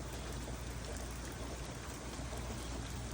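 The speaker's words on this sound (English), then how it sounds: "see, now it's raining even more now." Heavy rain falling outdoors, a dense steady hiss of drops lasting throughout with no voices, even and unbroken at a moderate distance.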